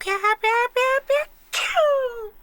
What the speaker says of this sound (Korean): 그럼 약간 재채기를 좀 귀엽게 하는 거야.